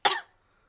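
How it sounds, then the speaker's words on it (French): A single short cartoon pig cough, close and sharp, then silence. "Mais regardez ce qui se passe quand je tousse."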